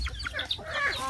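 Pet chickens cluck and chatter close by at feeding time on a farm in Cebu, several short calls overlapping above a steady low rumble of outdoor background noise.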